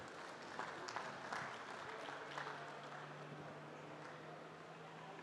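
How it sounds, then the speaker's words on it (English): Faint, distant applause from an audience at the Paris Air Lab during the Paris Air Show, thin and steady under a low hum, with no loud individual claps. "I think we can applaud you again."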